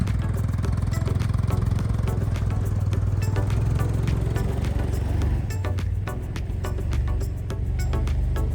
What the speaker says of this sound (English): start pulling out the utility truck out and the tractor out